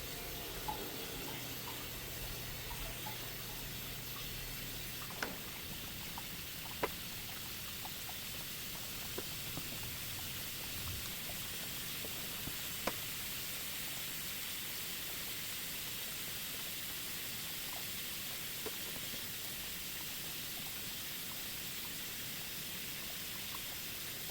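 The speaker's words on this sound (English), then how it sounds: "So I've got the hose just wedged a little bit so I can slowly start filling" A wedged hose slowly filling a 125 gallon aquarium: a soft, even rush of running water holding steady throughout, with faint clicks and taps now and then.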